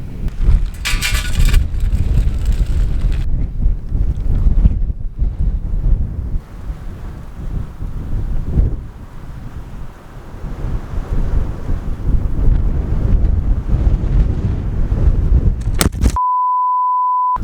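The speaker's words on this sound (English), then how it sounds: "Bloody wind just blew the camera over again" Strong wind blusters across a microphone in the Australian wilderness, a loud, low, gusting rumble with sharp buffets, ending in a brief steady electronic beep and then silence.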